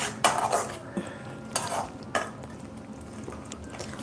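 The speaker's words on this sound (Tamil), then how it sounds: "தக்காளி நல்லா வதங்கட்டும்." Tomatoes sautéing in a pan while a utensil stirs and scrapes against the metal, giving several distinct clattering strokes over a soft sizzle, close and without talking.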